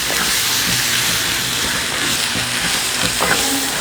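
Tomato and onion sautéing in a cast iron pan, a steady close sizzle with a few soft scrapes of stirring and no talk.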